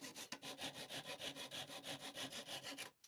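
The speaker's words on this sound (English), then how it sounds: "I cut the edges at an angle." Steady back-and-forth strokes of a hand saw cut angled edges on a squared-up piece of wood, making a rhythmic rasping of about a dozen even passes, close and alone, stopping abruptly at the end.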